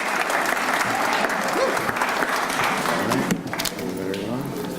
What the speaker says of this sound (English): Let's give a round of applause and congratulate all the nominees and finalists of